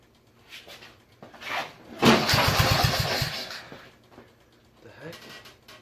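A Murray engine, apparently a riding mower, cranks and catches with a loud sputtering start that runs about two seconds before dying down, with talking around it.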